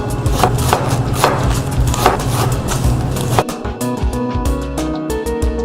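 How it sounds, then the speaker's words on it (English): A knife chops green onion into fine pieces on a cutting board, a fast, steady run of close, crisp taps that later slows into sparser, sharper strikes. "Now we'll take the green onion. Depending on how you like it, you want to chop it up nice and fine little pieces."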